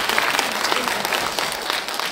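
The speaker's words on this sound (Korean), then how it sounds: "박수 치면 세게 치십시다." An audience at a politician's book launch event in Gwangju claps in a steady, dense burst of applause lasting a couple of seconds, with a voice faintly audible over it.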